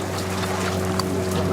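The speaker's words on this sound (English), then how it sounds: "Even the noise of the water is great, hey?" Streams of meltwater trickling and pouring off the side of an iceberg, a steady close wash of running water with a low hollow, cave-like hum beneath and no voices.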